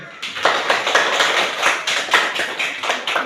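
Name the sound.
class clapping for a pupil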